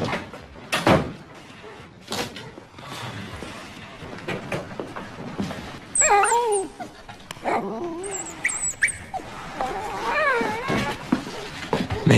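A dog whimpers in a high, wavering whine with several rising and falling cries midway, amid thumps and rustling indoors, loud and close.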